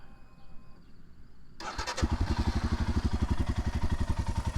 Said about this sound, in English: so you guys can hear what the engine sounds like after so many miles